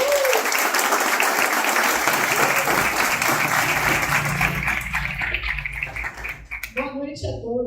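At a book launch, a full house gives the author warm applause, a loud dense roar of clapping that fades toward the end as a voice begins speaking.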